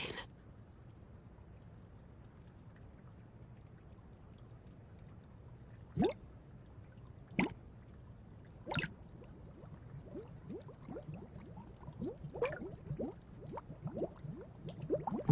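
Water drips in a quiet space, a few sparse, sharp plinks at first, then quickening into a faster, irregular patter of drops over a low steady background.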